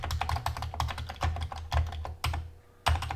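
Close, clicky keystrokes on a Commodore 64 keyboard come in quick uneven bursts with short pauses between them, with no talking.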